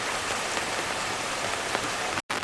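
Steady rain falls by the Dong River near Geoungyo bridge, a dense even hiss of drops hitting surfaces with a brief dropout near the end.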